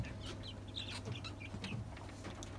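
Young Australorp chicks about one and a half months old cheeping and clucking in a small coop, several short chirps scattered over a low steady background hum, fairly quiet and close.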